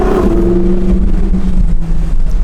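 A Lamborghini engine in sport mode hums at a loud, steady drone from inside the car, a deep sustained tone that sweeps gently as revs shift.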